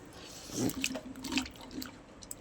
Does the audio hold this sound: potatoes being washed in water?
yes